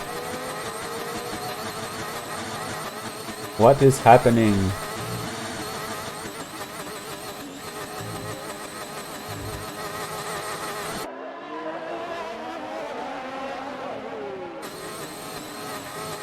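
Race car engine in a Monaco racing game round producing an odd, wavering tone, steady and fairly loud throughout, with a brief burst of other noise early and a shift in pitch pattern near the end; a short spoken question is heard.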